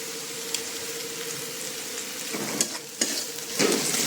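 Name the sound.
onions frying with salt in a pan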